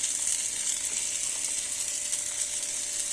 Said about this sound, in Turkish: Zaten hemen de kaynamaya başladı.